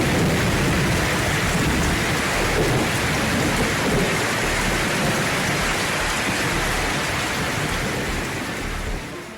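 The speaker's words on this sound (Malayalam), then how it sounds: "പക്ഷേ ഒരു 5 മിനിറ്റ് കഴിഞ്ഞപ്പോഴത്തേക്കും നല്ല മഴ" Heavy rain pours down continuously with the low rumble of thunder, a dense, loud roar that barely varies before easing slightly at the end, with no talking.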